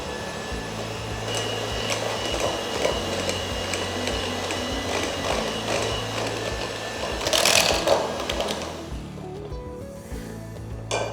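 An electric beater whirs steadily while creaming butter with powdered sugar and salt in a bowl, a close continuous motor hum with rattling against the bowl that rises briefly before the motor winds down.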